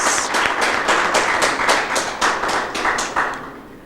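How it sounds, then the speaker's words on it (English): Scattered hand claps from a small audience at a 2018 debate quarter-final, a light rhythmic patter of individual claps rather than a full ovation, fading toward the end. "Give her a round of applause."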